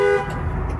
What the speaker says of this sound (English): Our car did have to honk a couple times